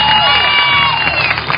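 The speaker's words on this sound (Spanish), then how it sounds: "Le pido al público un fuerte aplauso para este participante aguerrido" Studio audience at a televised competition show applauds and cheers loudly for an eliminated contestant, a steady dense roar of clapping and crowd noise with a voice ringing over it.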